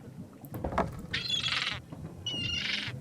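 A bird in The Secret of Monkey Island SE lets out two harsh, rasping squawks in quick succession, fairly clear over a quiet background.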